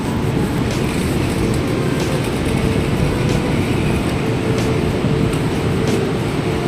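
Steady, loud rumble of a high-speed train at a station in Huangshan, Anhui, a continuous low roar with faint rattling and hiss running through without a break.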